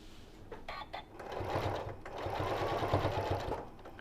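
A sewing machine runs a steady, rhythmic stitch along the seam of a Japanese rice bag, quiet and close up, with a brief pause near the start.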